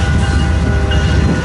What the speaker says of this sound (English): There's so many trains going by